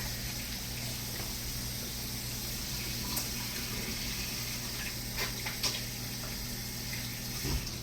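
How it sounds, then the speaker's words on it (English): A kitchen tap runs in a steady stream while hands are washed, a constant, moderately loud rush with a few small splashes and knocks, with no talk. "We're going to wash my hands."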